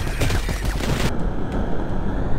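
A shotgun fires in the video game Mighty Goose: a quick cluster of loud, punchy blasts up front, followed by a ringing tail that fades over the next second.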